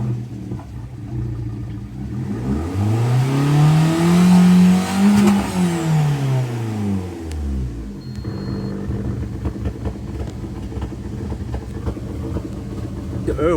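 A car engine with a throttle valve position control fault revving hard to 6,000 rpm, its pitch sweeping up to a loud peak and falling back, then settling into a rough idle with a voice talking over it.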